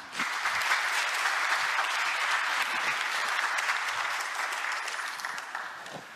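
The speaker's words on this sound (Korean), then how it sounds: "다시 한번 박수 부탁드립니다." An audience at a South Korean government policy briefing applauds steadily, a dense wash of clapping that holds throughout and eases slightly toward the end.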